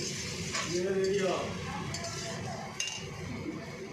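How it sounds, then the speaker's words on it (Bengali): A spoon stirs and sautés a curry seasoned with salt and turmeric in a pan, giving steady scraping and faint clinks over a low sizzle, with a brief voice-like tone early on. "আর নুন দিয়ে দিয়েছি হলুদ দিয়ে দিচ্ছি দিয়ে এটাকে ভালো করে কষাবো"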